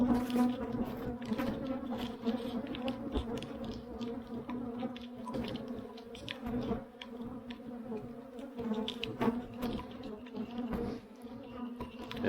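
Honey bees buzz steadily and densely up close, a continuous droning hum with shifting pitch from many insects flying around.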